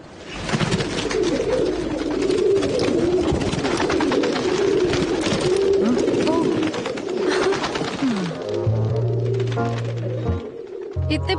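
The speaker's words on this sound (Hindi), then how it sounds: "देख रही हो ना कैसे गुटरगू कर रहे हैं।" Pigeons coo and flutter in a dense, continuous murmur of many birds close by, with a steady wash of wing and crowd noise that thins near the end as a voice begins speaking.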